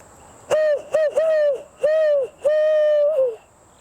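A person imitates an owl's hoot outdoors among trees, giving a close, loud series of five tonal hoots in uneven rhythm, each a sustained whistle-like call with a slight drop at the end.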